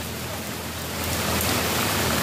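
Heavy rain pours steadily, a dense even hiss of drops on surfaces that grows slightly louder partway through, with no voices.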